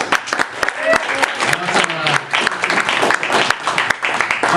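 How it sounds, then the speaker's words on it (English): Comedy club crowd claps and cheers in uneven, sharp bursts, fairly close and loud, with a voice speaking over the applause. "Give yourselves a round of applause"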